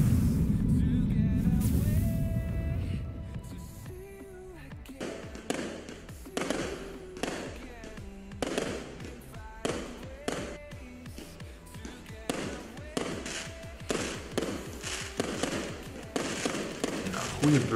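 A firework cake fires a rapid series of sharp bangs and crackling bursts, loud and rhythmic, after a brief rumbling launch at the start.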